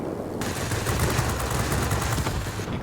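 Rapid cannon and machine-gun fire from a Bf 109 B fighter in World of Warplanes, a loud, dense, continuous rattle of shots running through the whole stretch over a steady engine drone.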